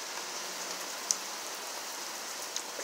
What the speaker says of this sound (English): It's raining like crazy.